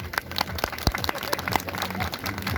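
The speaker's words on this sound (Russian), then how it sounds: "Я прошу аплодисменты всем." An audience applauds at a celebration of the Terendez holiday in Pyatigorsk, with scattered, uneven clapping at moderate distance and a few sharper claps, and faint voices murmuring underneath.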